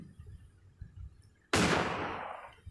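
A single loud shotgun blast in the video game Granny, striking suddenly after a quiet low rumble and trailing off in a long, fading echo.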